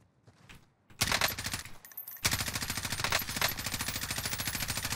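Rapid automatic M4 rifle fire in Call of Duty Modern Warfare, a few quick shots followed by sustained dense bursts of gunfire, loud and close.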